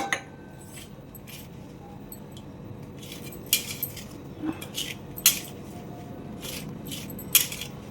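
Chopped mango pieces are tossed with chili powder by hand for pickle, making soft rustling and mixing noise with occasional sharp clinks and taps of utensils or a vessel, close and moderate.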